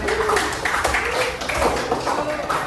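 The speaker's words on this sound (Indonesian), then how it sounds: "tepuk tangan untuk semuanya" Applause from a group in a classroom workshop in Banda Aceh, a dense continuous patter of many hands clapping at once for a few seconds, fairly loud and close.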